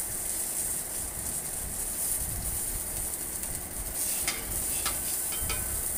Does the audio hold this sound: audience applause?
no